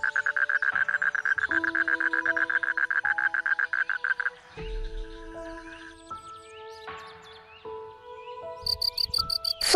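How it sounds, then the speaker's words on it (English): Frogs at a frog farm give a rapid, pulsing trill and then scattered tonal croaks and calls. A sharp, high chirping enters near the end. No voices are heard. "Frog farm."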